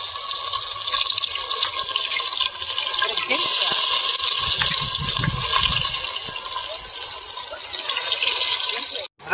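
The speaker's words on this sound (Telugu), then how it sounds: "నూనె పోసుకొని కాగబెట్టుకున్న తర్వాత ఆవాలు మెంతులు జీలకర్ర అయితే వేసుకుందాం అలాగే ఉల్లిపాయలు కూడా వేసుకున్నాం" Mustard, fenugreek and cumin seeds and onions sizzle in hot oil for Nellore fish curry, a loud continuous frying hiss and crackle that runs throughout before cutting off abruptly.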